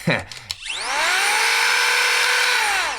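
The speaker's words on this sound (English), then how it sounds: "it is just a little compressed air blower" A small compressed air blower from Amazon whirs up after a few brief knocks, then runs steadily and loudly with a high, hairdryer-like rushing whine.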